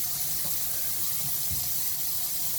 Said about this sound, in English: You can see there's water flowing through there.